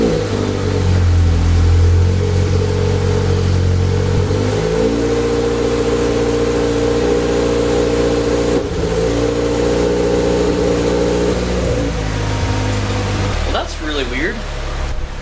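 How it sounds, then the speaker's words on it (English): A 2022 Subaru BRZ fitted with an MST cold air intake starting up and settling into a loud, close, steady idle with a low rumbling hum that dips and recovers, plus a few faint mechanical sounds near the end. "First start up with the intake. I'm gonna let it idle for a little bit."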